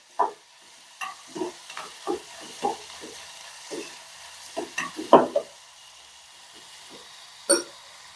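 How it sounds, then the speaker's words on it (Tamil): Onions sautéing in a pan with salt, heard as a series of short stirring scrapes and soft sizzles at an uneven pace, close and clear with no talk. "நல்லா வெங்காயம் நல்லா வதங்கி வரட்டும்."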